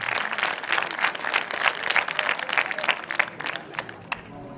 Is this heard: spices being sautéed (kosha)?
no